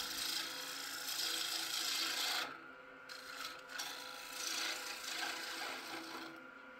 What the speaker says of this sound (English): I'm using a half-inch bowl gouge to hollow it out.